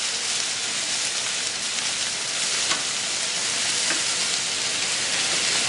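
Mussels with shallots, seaweed and vinegar sizzle on a hot plancha griddle and are stirred, producing a dense, continuous hiss that stays loud and even throughout.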